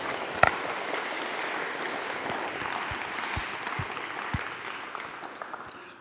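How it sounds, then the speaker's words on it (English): Audience applause at an outdoor gathering for the Tent of Nations near Bethlehem, a steady wash of many hands clapping at moderate distance, with a few sharper individual claps standing out, slowly tapering toward the end. "You clap,"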